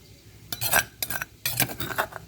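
Chillies being pounded for a bamboo shoot and mushroom curry, a series of sharp knocking strikes in short bursts, close and fairly loud, with no talking.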